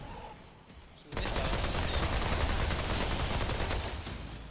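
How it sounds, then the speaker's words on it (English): Tommy gun firing in a video game: after a quieter opening, a sudden sustained barrage of automatic fire starts near the one-second mark and continues loudly and steadily, with faint voices underneath. "He shot missiles with a Tommy gun."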